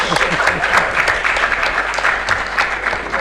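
An audience at an international symposium on countering organized crime in Africa applauds steadily, a dense wash of many hands clapping at moderate loudness that continues evenly for a few seconds.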